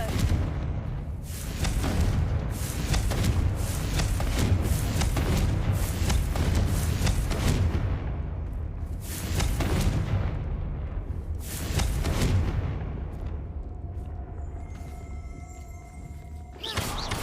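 Repeated booming blasts of the Confringo explosion spell in the Hogwarts Legacy video game, heavy thuds arriving in bursts every second or two amid dense combat noise.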